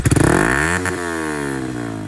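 A Yamaha MT-15 motorcycle with a new aftermarket exhaust and dB killer fitted blips its loud, throaty exhaust up and then falls back to a burbling idle, recorded up close.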